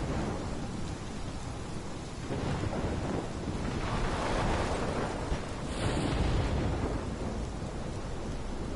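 Thunderstorm from the game Life Is Strange: steady heavy rain and wind with deep rolling thunder that swells in the middle and again near the end, a continuous loud roar with no talking.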